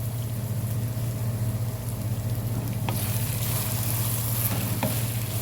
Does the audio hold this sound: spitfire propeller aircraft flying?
no